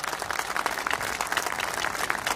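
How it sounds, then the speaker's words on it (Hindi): An audience at a fundraising program applauds, a thick, continuous wash of many hands clapping at moderate loudness, with no voices over it. "वंडरफुल, जोरदार तालियां।"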